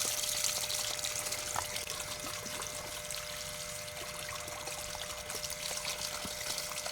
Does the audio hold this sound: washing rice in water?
yes